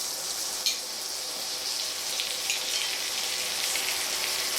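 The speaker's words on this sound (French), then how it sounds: "j'ai mis de l'huile neutre pour le départ, mais là, je vais y ajouter un peu de beurre" Butter sizzles steadily in neutral oil in a frying pan, a soft continuous crackle with no voices.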